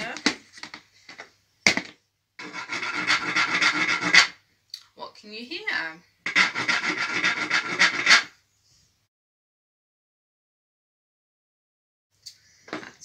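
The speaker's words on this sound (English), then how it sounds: "That's right, it was the scraper." A hand scraper rasping across wood in repeated strokes, close and loud, with short bursts and pauses between them, and a voice asking a question briefly at the start.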